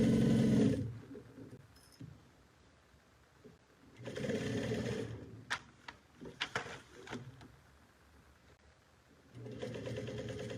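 A sewing machine stitches a bucket bag with a drawstring in short bursts at a long stitch length. Its whirring starts and stops, with quiet handling clicks and taps in the pauses.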